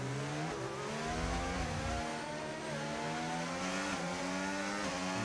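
Race cars in F1 25 at the Mexico City Grand Prix, engines revving with rising and falling pitch as one car passes another, loud and continuous with no talk.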